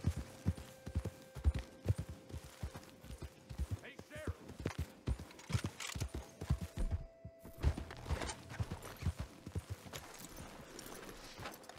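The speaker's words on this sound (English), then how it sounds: "My horse is freaking out right now." A horse's hooves in Red Dead Redemption 2 clip-clop close and loud in a quick, uneven rhythm as the spooked animal moves about, with faint voices in the background.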